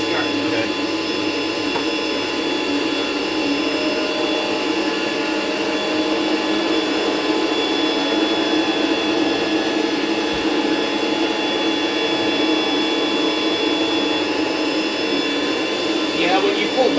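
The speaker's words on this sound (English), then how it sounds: "just pull the trigger so you can turn on the brush roll" AquaMate 3 carpet extractor running with its brush roll on, a loud steady whining motor drone with tonal hums that holds unchanged throughout, with people talking faintly under it.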